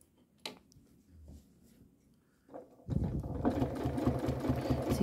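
A sewing machine stitches through the thick layers of a quilt binding, a few soft handling knocks giving way to a steady, loud mechanical whir that runs on without pause.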